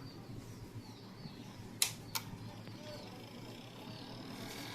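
Two sharp relay clicks in quick succession inside an old Sakura AV-5024 amplifier at power-on, close by, over a steady low hum.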